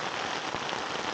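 Rain patters steadily and densely on a tent during a solo wild camp, a close, even hiss of drops with no voices.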